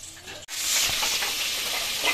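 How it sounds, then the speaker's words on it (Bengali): Chicken pakoras deep-fry in hot oil in a home kitchen. A loud, steady bubbling sizzle starts abruptly after a brief quieter moment and holds close and continuous to the end. "এখানে পুরো দমে মায়ের চিকেন পকোড়া ভাজা চলছে"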